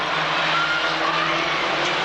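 Race cars in a Formula 1000 event at a Braintree Auto Club meeting roar continuously at close range, a dense engine drone with faint tire squeal, no talk over it.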